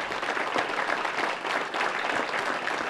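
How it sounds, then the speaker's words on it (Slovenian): A television audience at a polka-and-folk music show in Sveti Tomaž, Prlekija, gives the host a big round of applause, dense continuous clapping at steady volume throughout. "Dajmo en velik aplavz za gostitelja."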